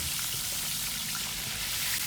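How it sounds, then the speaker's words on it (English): Steady crackling sizzle of fish (galunggong and mackerel) frying in hot oil, a dense, even hiss with scattered pops, continuous and fairly close. "Now the oil is getting hot. It's ready. Fry this. Ooh, sizzle, sizzle."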